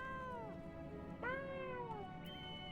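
Cat meows from the video game Final Fantasy XIV: two or three drawn-out, falling mewing calls spread across a few seconds, clear and near over a low steady background hum.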